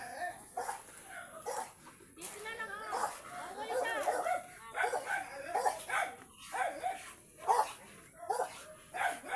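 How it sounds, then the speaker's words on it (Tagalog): A dog barks repeatedly at close range in sharp, irregular bursts mixed with yips and whimpers, while people talk nearby. "Tama na, wag ka ng tahol."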